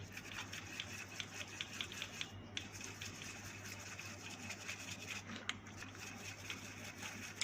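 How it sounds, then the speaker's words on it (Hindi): A brush scrubs a circuit board with petrol or PCB cleaner, making a steady, close bristly rubbing with small wet scratchy strokes repeating throughout, over a low constant hum and with no talking. "हम इसको पेट्रोल से या तो पीसीबी क्लीनर से हम इसको साफ़ कर दें ब्रश लेके"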